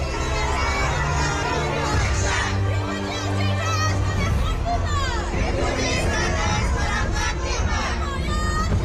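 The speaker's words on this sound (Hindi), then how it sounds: "देखिए, इस भीड़ में बच्चे हैं" A large crowd of Afghan refugees, children among them, gathered in Delhi: a constant loud hubbub of many voices, with shouting and raised children's calls over the dense babble.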